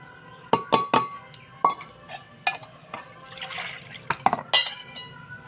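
Water is poured into a potato curry masala in a pot: a string of close splashes and gurgles with a few sharp clinks, and no speech.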